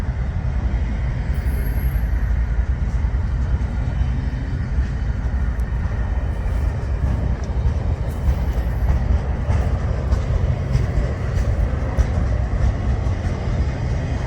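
A freight train rolls past on the Chicago to Memphis line, a steady loud rumble of wheels and cars that holds evenly for about fourteen seconds, with faint rhythmic clicks from the rails and no voices.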